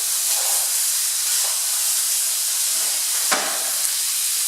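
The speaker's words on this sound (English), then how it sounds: "turn them over and sear them on the other side." Duck breasts sear skin-side in a hot pan with a steady, close sizzling hiss that runs throughout, with a brief sharper spit of fat near the end and no voices.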